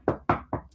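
Three sharp, evenly spaced knocks on a hard surface, loud and close, each with a short decaying resonance, heard as knocking reported by Chinese astronauts in space.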